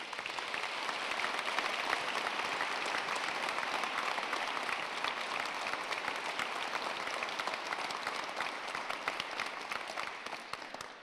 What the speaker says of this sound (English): allow you to thank them with your applause